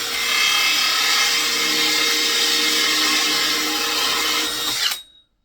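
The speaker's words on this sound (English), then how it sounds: "I'm quite sort of gentle with drilling these because I want it to be nice and neat." A power drill bores into wood for a swift nest box, a loud close steady whirring grind held for nearly five seconds before the motor cuts off abruptly into silence.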